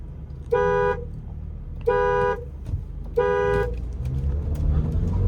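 At a drag race between a Volkswagen Virtus 1.0 TSI and a Vento 1.2 TSI, three evenly spaced horn-like beeps mark the countdown. A low engine rumble then swells as the cars launch, with a few faint clicks and no talk.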